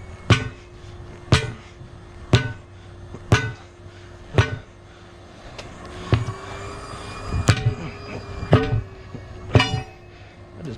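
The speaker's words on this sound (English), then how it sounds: "Actually, we'll hit it like that. Do not hit that rim, just that bead." Hammer striking the bead of a semi truck tire, about ten sharp metallic blows at a steady, roughly one-per-second rhythm, loud and close with ringing decay.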